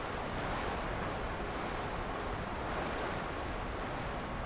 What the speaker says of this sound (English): We're treading water.